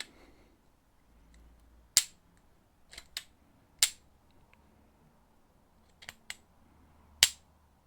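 Several sharp, loud cracks of a captive bolt stunner firing during pig slaughter ring out at irregular intervals over a quiet background, each one a short percussive bang.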